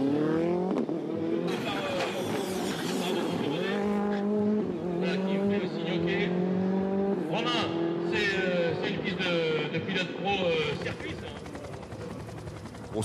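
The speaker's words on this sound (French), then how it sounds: "Ouais, qu'il a freiné un peu tôt là. Freiné en 2 fois." A Ford rally car on a special stage of the 2013 Rallye de France Alsace Power Stage near Strasbourg braking in two stages. Loud engine revs rise and fall with shifting pitch, under continuous commentary.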